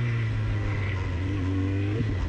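A Suzuki GSX650F motorcycle engine drones steadily and close, with a low, even tone and a slight rise in pitch near the end, as it accelerates for a wheelie.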